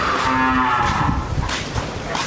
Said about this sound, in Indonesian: Ini sapi lokal asli nih.